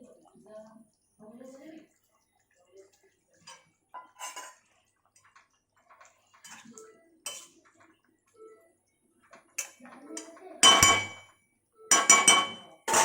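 A lid is set on a cooking pot of fish curry with cauliflower, producing several sharp metallic clanks near the end after quiet stretches of talking and small kitchen taps.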